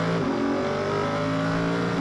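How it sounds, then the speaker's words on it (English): Inter Europol LMP2 Ligier prototypes running side by side in an Asian Le Mans race, engines droning steadily at high revs, close and loud with no letup over two seconds. "13 getting into a little bit of side-by-side action with the other Inter Europol LMP2 Ligier, the 33 car"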